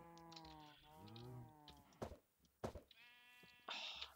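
Sheep in Minecraft bleat several times in a row, wavering calls close by and fairly loud, separated by short clicks and game sounds.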